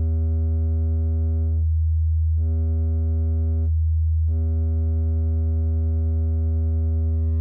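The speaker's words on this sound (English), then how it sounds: "Another type of distortion, highly prized by music producers, is crossover distortion." A sine-like test tone run through a crossover distortion effect on an STM32 audio DSP, a steady buzzy tone rich in harmonics, briefly broken twice into a thinner hum before resuming.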